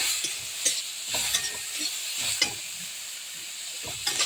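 Shrimp and okra seasoned with salt and turmeric are stirred in a frying pan, with repeated scraping strokes at an uneven rhythm over a steady, close sizzle and hiss.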